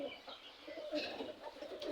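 Pigeons in a loft of mixed local and foreign breeds coo quietly, with low burbling calls and small chirps overlapping in a faint, steady murmur.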